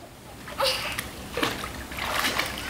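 A child swims and splashes in water, with uneven bursts of spattering and sloshing heard nearby over a couple of seconds.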